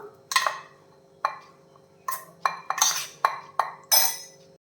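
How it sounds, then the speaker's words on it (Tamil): Cooked rice goes into a bowl of beetroot curd with a series of sharp clinks and scrapes of a spoon against the dish, about eight separate strikes, close and fairly loud, with a faint steady hum behind them. "இனி வந்து இந்த சாதத்தை இதில் சேர்த்துடலாம்"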